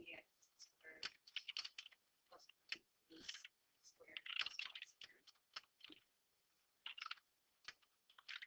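Quick, light keystrokes on a computer keyboard while an equation is entered, coming in uneven clusters of soft clicks with short gaps, fairly faint and close.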